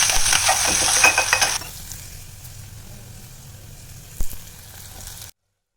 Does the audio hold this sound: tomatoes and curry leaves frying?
yes